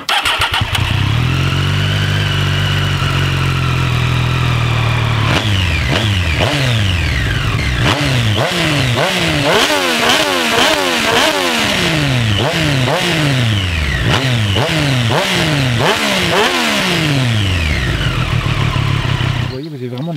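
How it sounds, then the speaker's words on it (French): A Triumph Street Triple 765 S motorcycle engine cranks and fires up, then revs repeatedly in sharp rising bursts between idle, loud and close throughout. "je vais démarrer la moto"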